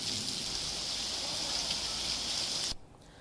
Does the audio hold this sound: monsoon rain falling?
yes